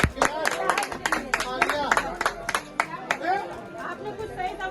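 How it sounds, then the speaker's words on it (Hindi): At a political gathering in Kanpur, a crowd breaks into uneven, scattered clapping, with sharp claps close by at first that thin out, under lively chatter and voices talking. "तालियां बजा दो।"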